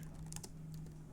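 Short burst of keystrokes on a computer keyboard as a terminal command is entered, a handful of light, quick clicks close to the mic.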